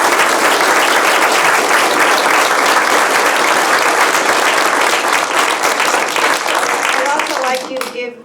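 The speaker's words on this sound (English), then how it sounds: "So please join me in a round of applause for all of them" Sustained, loud round of applause from a forum audience for election candidates, a dense continuous clatter of many hands that thins and fades near the end.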